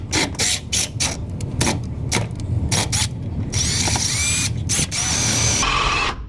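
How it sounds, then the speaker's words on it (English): A power drill fitted with a 25/64 inch bit bores into a truck: a run of short, close trigger bursts with gaps, then longer sustained whining stretches as the bit cuts through metal. "take my drill with a 25/64 bit on it"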